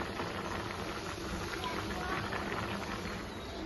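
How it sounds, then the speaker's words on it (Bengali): Soybean chunks frying with potatoes and spices in a pan, giving a steady close sizzle and crackle throughout, with faint background voices. "সোয়াবিনটা দিয়ে কষাচ্ছি"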